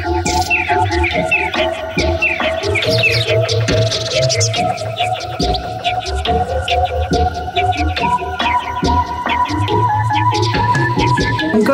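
Dense garden birdsong with many overlapping chirps and whistles, bright and continuous, alongside steady tonal sounds that may be music or insect-like buzzing throughout.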